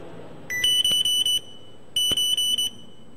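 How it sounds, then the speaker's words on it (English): Collision warning beeps from a car's anti-accident lane and collision system, sounding as two loud bursts of four rapid high-pitched electronic beeps separated by a short pause. "Okay, such a beep, you don't think, okay, should I, should not, you just brake."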